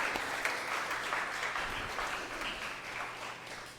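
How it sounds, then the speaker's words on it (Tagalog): Church congregation applauding for Jesus at a New Year's Day 2021 service, a steady wash of clapping from many hands that slowly fades, heard alone. "Sige nga, the best uling palakpak para kay Jesus."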